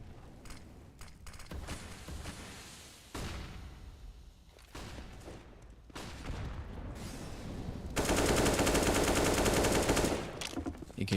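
Dense, continuous rifle fire in Counter-Strike, with overlapping bursts and booms from a busy firefight, loud and unbroken, swelling near the end, with no talking.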